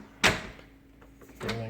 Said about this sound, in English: So when I close the door,